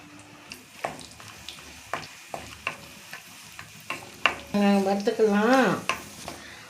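Cashews fry in melted ghee in a pan for rava laddu, with a quiet sizzle under rhythmic spatula taps, followed near the end by a louder, brief tonal burst.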